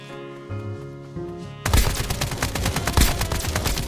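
Rifle gunfire in Escape From Duckov: after a quiet, tonal musical stretch, loud rapid bursts of shots break in and keep hammering close and dense to the end.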